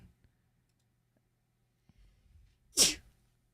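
A single sharp sneeze bursts out after near silence, close and sudden, preceded by a few faint clicks.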